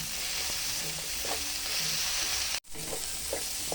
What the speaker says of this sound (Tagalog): sasangag po tayo